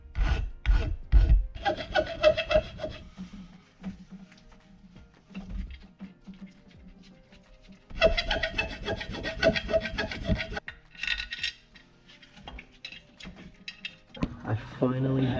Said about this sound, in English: That mark right there is where I got to grind off some material.